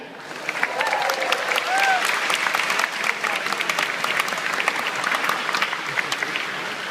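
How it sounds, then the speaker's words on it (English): Steady, dense applause from a convention audience at a Star Trek fan event opening ceremony in London, sustained clapping filling the hall with a faint voice underneath. "So if you can give all these a round of applause"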